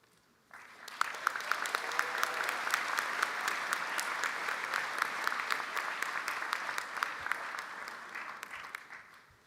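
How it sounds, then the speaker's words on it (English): A large audience applauds new medical graduates at a College of Medicine oath ceremony, with dense, sustained clapping that rises quickly, holds steady for several seconds and slowly tapers off. "Let's have one more round of applause for all of our new graduates."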